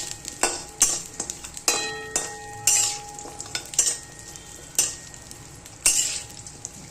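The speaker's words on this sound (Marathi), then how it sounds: "चांगलं भाजून घ्यायचं हे तेलामध्ये." Edible gum (dink) fries in hot oil for methi laddoos, a steady close sizzle broken by repeated scraping strokes of a spoon against the pan, with no voices.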